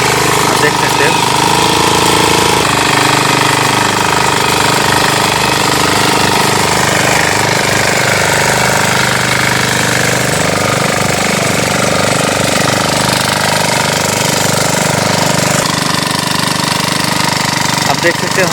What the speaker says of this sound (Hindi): फाइनली गाइस ट्रैक्टर स्टार्ट हो चुका है, अब हम खेत को लगाने वाले हैं